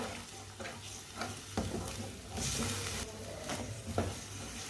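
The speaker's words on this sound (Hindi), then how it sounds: "अच्छी तरह मिक्स कर लेंगे" Masala and a little water stirred in a pan over medium flame, a soft continuous sizzle with repeated spoon scrapes and light knocks against the pan, fairly quiet and without talk.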